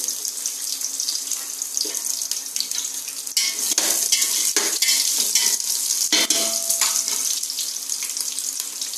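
Vegetables such as carrot, beetroot, green chillies and onions frying in a pan, giving a steady close sizzle with clattering stirring and scraping bursts throughout.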